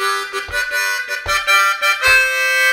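Harmonica lick, played close and alone as three breathy phrases of bright held notes separated by short gaps.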